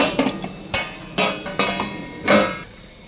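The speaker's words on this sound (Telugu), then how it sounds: "మూత పెట్టేసుకుందాం." A metal lid set onto a cooking pot in a home kitchen, giving several short clanks and knocks at close range, spaced irregularly over a few seconds with no talk.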